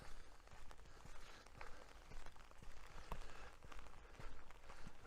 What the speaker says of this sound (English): Hopefully this rain won't last too long.